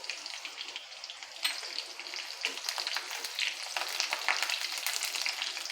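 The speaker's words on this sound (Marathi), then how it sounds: "आपण कढीपत्ता घालू" Curry leaves frying in hot oil in a pan for sprouted moth bean bhaji, a steady crackling sizzle with bright spattering pops, close and even throughout with no voices.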